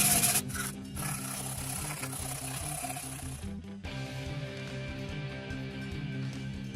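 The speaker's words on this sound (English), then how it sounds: "To round off concave shapes, just wrap a dowel with sandpaper." Sandpaper wrapped around a dowel rubs back and forth over a concave curve on a wooden sword, a loud, steady rasping scrub with a brief pause midway, under background music.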